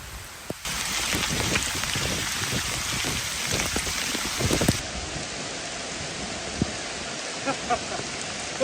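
Heavy monsoon rain pours down outdoors during a long-distance trek, making a dense, steady hiss with scattered louder drops and patters close by, easing slightly toward the end.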